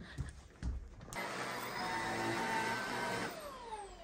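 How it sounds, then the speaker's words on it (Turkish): A vacuum cleaner switches on after a couple of thumps and runs with a loud, steady roaring whine, its pitch sliding slightly as it keeps going at close range indoors. "Kalkıp süpürgeye çeksene."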